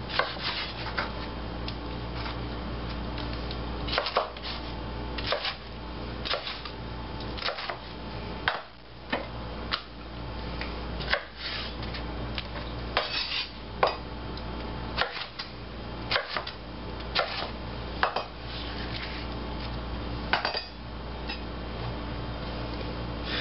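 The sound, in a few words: knife cutting green chilies into chunks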